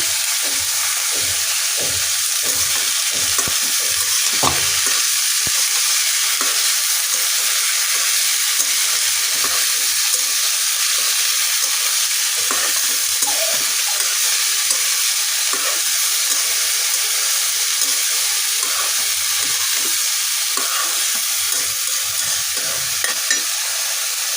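A vegetable bhaji with turmeric frying loudly in a pan, a dense continuous sizzle and hiss with scattered stirring scrapes throughout, close and with no talking.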